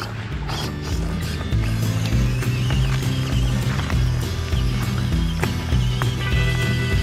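A mini 4WD scale RC crawler car, an $80 model, climbs over tree roots outdoors, its motor and gears whining and ratcheting steadily and loudly with no pause.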